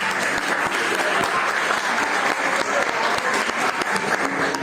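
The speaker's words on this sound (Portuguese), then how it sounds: "Salva de palmas, professora." Sustained applause from an audience for professor Ana Paula at a Brazilian gathering, dense and steady clapping at close range for nearly five seconds, with a few voices mixed in.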